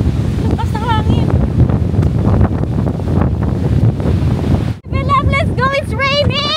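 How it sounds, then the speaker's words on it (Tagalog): Heavy wind buffets the microphone with a steady low roar throughout, with voices talking over it and a brief dropout near the end. "Grabe ang hangin."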